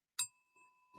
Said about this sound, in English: This is the first time I am ringing the bell.